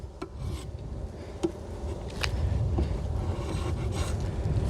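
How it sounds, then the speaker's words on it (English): A tool scrapes residue off a wooden beehive part, giving a close, continuous rasping rub with a few sharper scratchy strokes. "scrape a little bit of whatever that is off"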